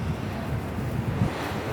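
Gusty winter wind in Hong Kong buffets the microphone with a low, rumbling roar, steady and close, with no voices.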